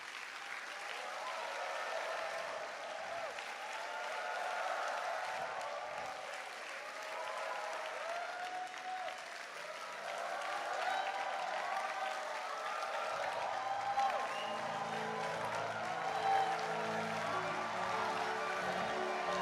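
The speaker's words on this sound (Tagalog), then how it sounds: "Clap your hand and shout your joy." Audience at a youth camp applauds steadily for about twenty seconds, a dense wash of many hands clapping, with some crowd voices and cheering mixed in and a low musical tone entering toward the end.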